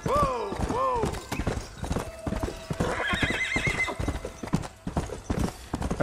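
Hooves clip-clop steadily from a horse in the Red Dead Redemption video game, with two loud whinnies near the start and another neigh midway, while a voice talks over it.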